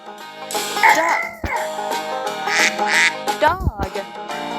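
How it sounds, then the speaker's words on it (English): A cartoon duck in a children's farm-animal stacking game gives several quick, raspy quacks, clustered near the end, layered over bright background music. "Duck."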